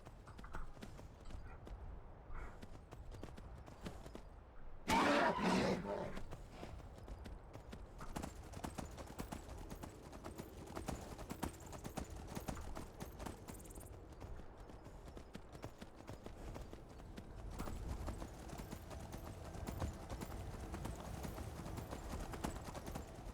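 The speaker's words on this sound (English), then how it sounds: "we'll use the horse to get across the mountain" Hooves of a horse in the video game Skyrim clip-clop steadily at a trot for a long stretch, with a brief horse snort or whinny burst near the start.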